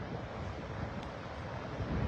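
Steady wind roars across the microphone in a continuous broadband rush at the coastal boardwalks by the 12 Apostles, loud and close, with no voices.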